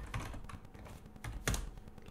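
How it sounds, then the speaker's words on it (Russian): Quiet keystrokes on a computer keyboard as a password is entered at a server login, a few soft taps scattered over two seconds with one sharper click near the end. "Вводим пароль."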